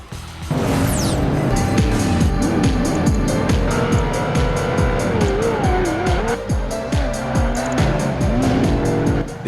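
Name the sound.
racing cars and tire squeals from video game Project Gotham Racing 2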